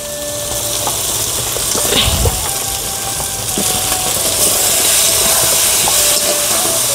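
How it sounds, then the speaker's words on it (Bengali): Crab pieces fry in oily spice paste in a pan, giving a loud continuous hiss with scattered clicks and a brief thump, no talking heard. "মশলা থেকে তেল ছেড়ে এসছে, এবার যতটুকু কাঁকড়া দেওয়ার দিয়ে দিব।"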